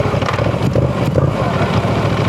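Moto Guzzi V7 Sport motorcycle engine rumbling steadily at close range, a continuous low throbbing idle-like drone with no talk over it.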